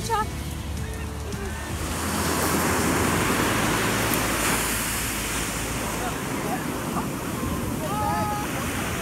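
Sea waves on Puri beach roll in as a steady, loud broadband roar of surf with wind buffeting the microphone, swelling slightly partway through, while voices murmur faintly in the background.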